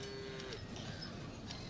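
Cattle moo at a cattle ranch in the Thrones of Britannia strategy game, a single faint low moo over quiet ambient background with light clinks.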